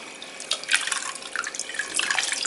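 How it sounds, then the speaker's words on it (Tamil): A towel dipped into cool herbal water from a mud pot and lifted out, giving a burst of splashing and trickling drips that carries on for a couple of seconds, close and fairly loud, with no talking. "இந்த மாதிரி ஒரு டவலை நல்லா முக்கி எடுத்துட்டு, சில்லுன்னு இருக்குது"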